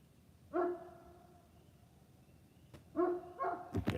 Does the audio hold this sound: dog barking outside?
yes